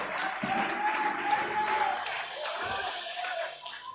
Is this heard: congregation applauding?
yes